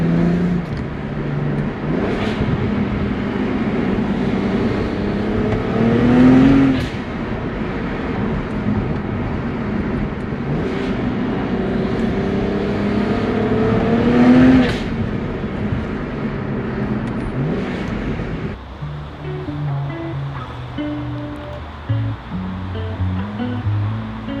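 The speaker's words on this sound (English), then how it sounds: "Still enjoying the turbo spool sounds." BMW 135i E82 turbocharged engine in slow bumper-to-bumper traffic on Sydney roads, a steady cabin drone with rising and falling spool whooshes around two surges, then a quieter, choppier stretch near the end; no talk.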